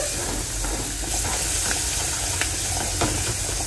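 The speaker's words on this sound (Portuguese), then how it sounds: "Vou refogar um pouquinho aqui." Seasoning sizzling and frying in a thin drizzle of oil in a pan before beans are added, a steady close hiss with faint crackles and a few soft scrapes, no talking.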